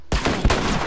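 Sniper fire in the video game The Last of Us: loud, close gunshot bursts, with a sharp crack near the start and another heavy report midway, left ringing in a dense, sustained roar of noise.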